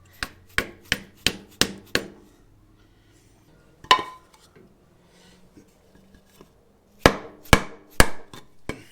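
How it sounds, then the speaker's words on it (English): A drive shaft seal is hammered into position on a yoke with sharp metallic smacks: a quick run of six blows, a single hit, a long pause, then four more strikes, loud and close. "we're going to start smacking it in position"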